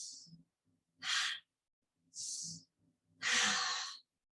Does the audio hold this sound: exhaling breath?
yes